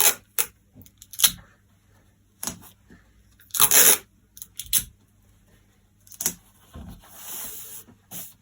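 Tape is pulled and torn off a roll in short, sharp bursts while someone works on a sewing pattern, with one louder rip in the middle and quiet gaps between pulls.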